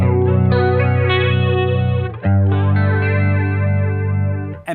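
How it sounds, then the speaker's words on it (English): Electric guitar chords played through an original Boss flanger pedal, a dark, sweeping jet-like whoosh cycling over two sustained strums, loud and close with no talking. "So here's an original Boss flanger."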